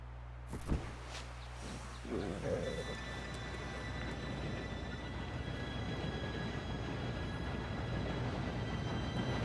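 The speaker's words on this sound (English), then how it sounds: "Train should be here any minute now." A train approaches in a Western-themed video game, a low rumbling roar that starts after a sharp knock and swells into a steady, dense clatter that keeps building over nearly ten seconds.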